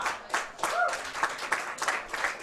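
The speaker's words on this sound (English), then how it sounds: "you can hear the crowd really appreciative of the level of play there" Crowd applause after an exciting rally in a racquetball doubles final at the Boston Open, a rippling patter of clapping running steadily through the moment, with a voice briefly heard over it.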